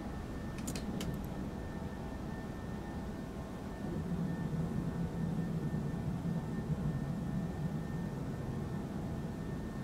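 An Aerosoft Airbus A320 climbs out of KSAN in the Prepar3D flight simulator with the gear retracting. Steady engine roar swells slightly partway through, with a few brief clicks near the start.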